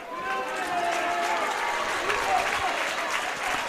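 Steady applause from spectators at a youth football match, Centro Giovani Calciatori Viareggio against Stema Bassano 1954, during a timeout. The clapping is dense and continuous throughout, with faint voices inside it.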